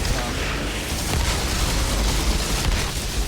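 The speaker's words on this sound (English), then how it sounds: "that explosion pop is gonna do the damage" Explosions go off in the sci-fi shooter game Outriders, a dense, loud rumble of booms and bursts layered with mechanical noise that continues throughout.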